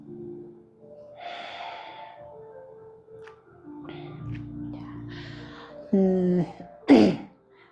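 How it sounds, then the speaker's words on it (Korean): A deep breath in and out during an evening vinyasa yoga session, with slow airy inhales and exhales that turn into louder, voiced sighing breaths toward the end. "크게 호흡을 들이마시고 내쉬고 마지막 한숨만 더 가볼 거예요."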